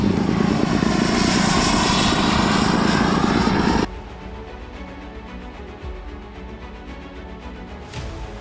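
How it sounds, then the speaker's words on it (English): Giant RC warbird model airplanes fly at a Fond du Lac, Wisconsin model event, one propeller engine roaring loud and close before cutting abruptly to a fainter, steady drone. "Watch as these supersized models take flight, piloted by the Midwest's finest remote control pilots."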